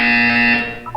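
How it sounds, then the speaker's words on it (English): A loud, harsh electronic buzzer from the video game Portal 2 sounds one steady tone for over half a second, then fades out as a brief higher blip follows. "You will hear a buzzer."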